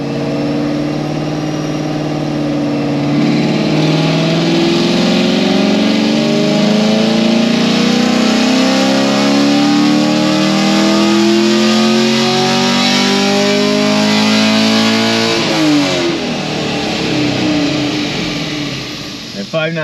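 Car with an upgraded cam and flex fuel roaring through a full-throttle dyno pull, its loud engine note climbing steadily in pitch for about fifteen seconds before backing off, with a voice talking faintly underneath.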